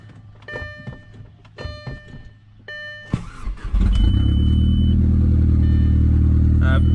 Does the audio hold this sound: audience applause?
no